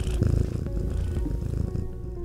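A cat purrs in the Dreams video game, a steady close rumbling purr that runs unbroken for a couple of seconds with no talk over it.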